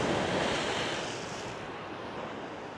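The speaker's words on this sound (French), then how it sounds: "Il y a des sacrées vagues." Big sea waves crash and wash onto a pebbly shore at La Zenia, Spain, a loud, continuous roar of surf with wind buffeting the microphone, fading slightly toward the end.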